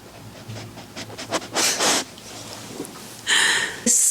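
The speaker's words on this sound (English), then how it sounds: "He's the one snoring." A dog snores and snorts up close in uneven bursts, with rough breathy puffs and sniffs that grow louder toward the end.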